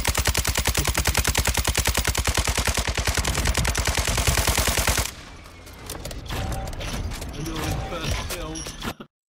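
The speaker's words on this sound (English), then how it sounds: "All three people shooting me" Rapid automatic gunfire in Call of Duty Warzone 2.0, a dense loud burst of shots for about five seconds, then scattered clattering and distant shots before cutting off abruptly.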